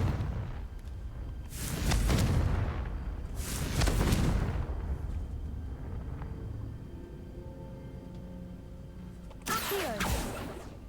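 Confringo blasting spells exploding in the video game Hogwarts Legacy: three separate booming blasts spaced several seconds apart, each a loud rumbling burst that fades away, with a faint tonal background in the quieter gaps.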